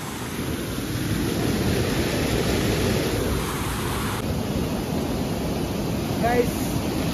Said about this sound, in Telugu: అదే వాటర్ ఫాల్.